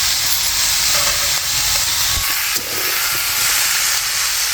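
Tomatoes hitting a hot pan of cabbage and dal sizzle in a loud, steady hiss that holds for several seconds with faint clatter beneath.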